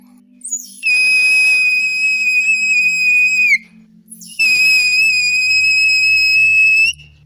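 Two long, piercing blasts from a homemade survival whistle, each shrill and sustained for a few seconds, separated by a brief pause; very loud and close.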